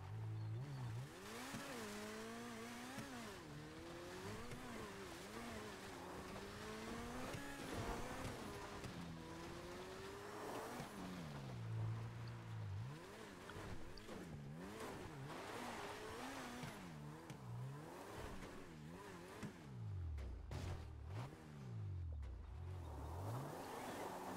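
Loud game car engine in GTA 5 revving and straining as it climbs a near-vertical hill, pitch sweeping up and down continuously with tire noise, no talking.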